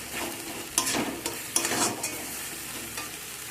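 Spices and melted tomato being stirred and sautéed in a pan for a broccoli and potato curry, a steady close sizzle broken by a few louder scraping stirs of the spoon, with no talking.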